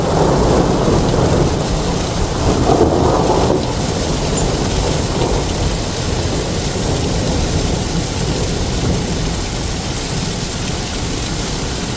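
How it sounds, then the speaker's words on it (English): Heavy rain pours steadily during a thunderstorm in the Dallas area with a tornado nearby, a dense, loud wash of drops with low thunder rumbling early on, continuous for the whole stretch with no voices. "this little video of the rain"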